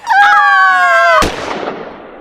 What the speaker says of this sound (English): He aims at Tufty Fluffy Tail. He fires!